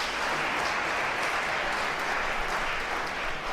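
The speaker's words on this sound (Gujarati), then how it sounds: "એકવાર જોરદાર તાળી આપણે બતાવી" An audience at a Swaminarayan religious gathering breaks into strong, sustained applause, a thick, even roar of many clapping hands that carries steadily from start to finish without letting up.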